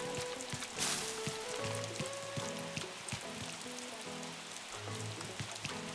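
Rain in Animal Crossing: New Horizons falls with a soft, steady patter, and gentle game music and chimes play over it.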